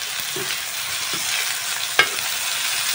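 Ingredients being roasted and stirred in a pan sizzle steadily, with a few soft scraping stirs and one sharp clack near the end, close and alone with no voices.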